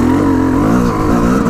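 A motorbike engine revs steadily and loudly through a test ride, a continuous close-up roar with shifting pitch and no pauses.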